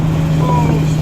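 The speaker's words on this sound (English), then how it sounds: "like your engine brake?" A truck engine brake drones in a loud, steady low rumble with a sustained hum, close by and unbroken for about a second, with no talk over it.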